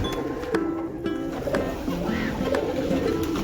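A flock of rescued pigeons coos while pecking at chickpeas scattered for feeding, soft overlapping calls over a busy close-up rustle, with occasional sharper clicks and faint bird chirps mixed in.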